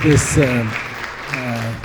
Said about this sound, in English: if you could give a round of applause to Aidan